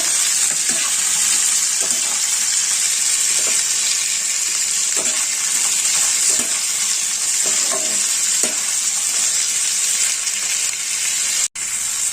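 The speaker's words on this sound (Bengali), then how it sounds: "টমেটোটা একটু ভালো করে ভেজে নেব" Chopped tomato frying in a pan for a banana-flower curry, a loud, steady, hissing sizzle with periodic stirring scrapes throughout, briefly interrupted by a sharp knock near the end; no one speaks.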